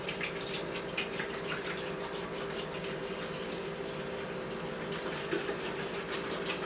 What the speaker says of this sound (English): I'll put about maybe 1 liter of water in it